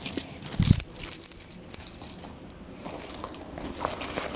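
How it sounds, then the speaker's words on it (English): A bunch of keys taken from a purse, jangling and clinking in a few short bursts near the mic, with a sharper metallic rattle early on and softer handling rustle after. "And then here's my keys."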